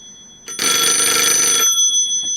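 A telephone ringing in a shed after dialing out from another phone, one loud bright electronic ring burst of about a second that stops abruptly, with no talking.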